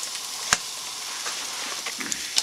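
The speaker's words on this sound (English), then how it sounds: "Sizzling already." Steady hissing sizzle of hot dogs frying on a homemade double-decker hobo wood stove, with a few sharp pops and crackles scattered through it.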